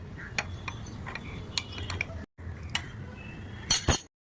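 A spoon of cornflour mixed into water in a small glass or cup, light clinks and taps of the spoon against the rim, sparse and close, with a brief gap and a cluster of sharper clinks near the end.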